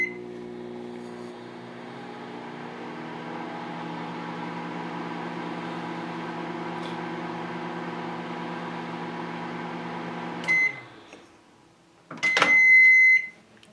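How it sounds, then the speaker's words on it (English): A microwave oven hums steadily for about ten seconds while heating puffed corn for carp fishing bait, then stops with a click and a few sharp beeps near the end. "we're going to go ahead and put them in the microwave now"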